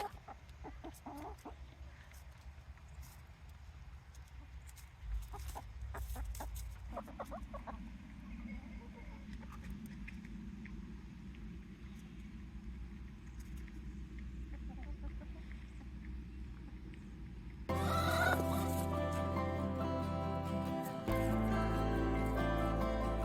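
Chickens cluck intermittently nearby at a dust bath amid scratching and rustling, with a burst of louder background noise toward the end.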